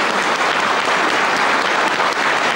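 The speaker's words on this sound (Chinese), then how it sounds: "雄风犹在的演奏和指挥博得了全场的热烈掌声。" A concert hall audience gives dense, sustained, loud applause after a veteran musician's guqin performance and his conducting of a Chinese traditional orchestra.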